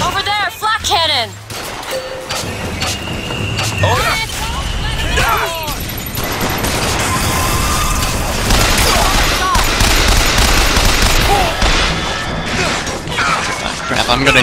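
Rapid flak cannon fire and impacts in the video game BioShock Infinite, loud and continuous bursts with crashes and metallic pings, mixed with voices shouting over the barrage.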